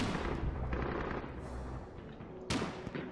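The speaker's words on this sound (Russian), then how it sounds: "мы сейчас изнутри будем стрелять" Rapid bursts of machine-gun and rifle fire crackle in a war game, dense overlapping volleys with a sharp loud shot near the end, all at close range.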